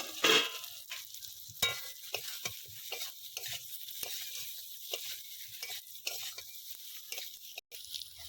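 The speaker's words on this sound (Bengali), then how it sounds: "এবার এই ভেজে রাখা কাঁকরোলগুলো দিয়ে দেবো দিয়ে একটু কষাবো" Fried teasel gourds (kakrol) tossed into spiced chili-powder masala sizzle steadily in a pan, with a loud initial crackle followed by repeated scraping stirs through the frying, close by and free of talk.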